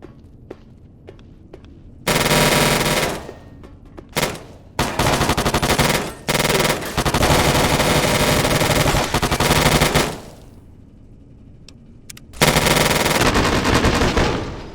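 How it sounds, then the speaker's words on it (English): Companion gunfire in the video game Fallout, several long loud bursts of rapid automatic fire separated by quieter gaps with a few single shots and faint footsteps. "Eventually she will run out of ammo, but until that day comes, just keep blasting."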